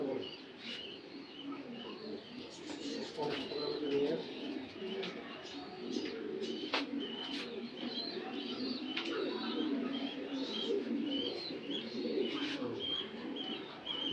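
Racing pigeon squabs from a club loft coo in low, steady murmurs, with scattered sharp chirps and light rustling from the birds, continuous and close throughout.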